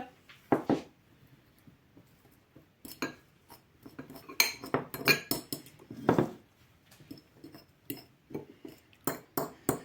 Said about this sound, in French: Je vais écraser mes jaunes avec une fourchette